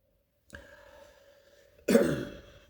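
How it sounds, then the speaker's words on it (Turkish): A faint cough, then a louder, harsher cough about a second later, close by in an otherwise quiet room. "Kusura bakma öksürüyorum."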